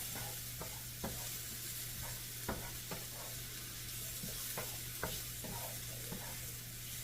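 Mushrooms sautéing and cooking down in a pan for turkey à la king make a soft, steady sizzle with occasional light stirring taps, faint and close over a low background hum.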